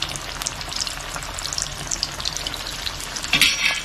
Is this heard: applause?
no